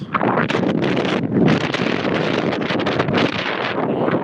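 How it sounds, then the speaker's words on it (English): Strong wind gusting across open countryside in Bangladesh, buffeting the microphone with loud, continuous roaring rushes and rustling. "I can hear the sound of the wind very much"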